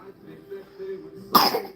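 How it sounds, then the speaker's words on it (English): A single short, harsh cough bursts out near the end after a low murmur and quiet background hum. "That's not hello, that's cough."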